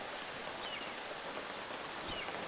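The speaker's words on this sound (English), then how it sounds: "Yay, rain." Steady rain in the video game Feather, a dense, even hiss of falling drops that fills the whole moment at a constant moderate level, with no voices or other distinct sounds above it.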